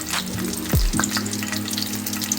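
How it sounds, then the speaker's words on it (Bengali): Whole cumin seeds and four slit green chillies sizzle in hot oil with a steady crackling hiss, while a couple of brief sliding tonal sounds pass in the middle. "তার মধ্যে আমি গোটা জিরে ফোড়ন দিয়ে দিলাম। দিয়ে দেবো 4টে চেরা কাঁচা লঙ্কা"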